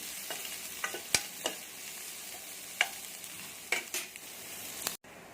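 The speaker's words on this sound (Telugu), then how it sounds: "ఇప్పుడు చిన్న సైజు ఉల్లిపాయ ఒకటి ఒక పచ్చిమిర్చి వేయండి వేసి ఒకసారి బాగా కలపండి ఉల్లిపాయ కొద్దిగా ఫ్రై అవ్వాలి" Chopped onion and green chilli fry in a pan under a soft, steady sizzle, with several sharp scrapes and taps of a spoon as they are stirred. The sound cuts off abruptly near the end.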